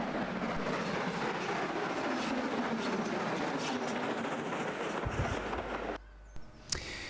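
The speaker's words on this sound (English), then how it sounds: "our first locomotive to be seen here is the RSH ELR number 1" The RSH industrial locomotive ELR number 1 runs up the line, a steady rumbling engine and rolling wheels heard from moderately near that fades slightly toward the end, with a brief knock at the close.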